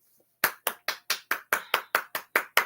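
Eleven sharp hand claps in a steady, even rhythm, loud and close, starting after a brief quiet lead-in with no voice.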